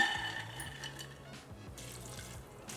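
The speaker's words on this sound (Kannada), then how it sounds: "ಒಂದು ಒಂದು ಕಪ್ನಷ್ಟು ನೀರು ಹಾಕ್ಕೊಂಡು" Water poured into a pressure cooker holding soaked cowpeas, a soft, steady splash and trickle at low volume that lasts nearly three seconds, with faint kitchen clatter alongside.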